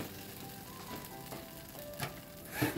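Boiled, blended raw banana peel paste fries into a bhuna in a pan, giving a soft, low sizzle with a few faint utensil taps and a louder scrape near the end, up close.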